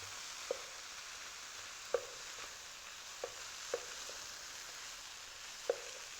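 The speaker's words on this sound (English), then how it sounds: "And then just give that a nice stir through as well." Fried rice stirred in a pan: faint steady sizzle with a few soft, sparse scraping clicks of the utensil at irregular intervals, no voices.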